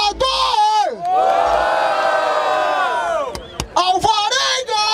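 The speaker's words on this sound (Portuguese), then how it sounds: "Barulho para as rimas do Salvador!" A crowd at a street rap battle in Barueri, São Paulo, roars and whoops loudly in sustained cheers for several seconds. A brief break follows, then shouting and cheering rise again, close and energetic, mixed with voices.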